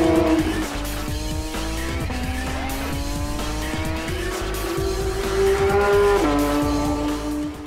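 Porsche 911 GT3 with its rear-mounted 4-litre naturally aspirated flat-six, revving hard through gear changes with a high, sustained engine note, close and loud, with tire squeal throughout and no voices.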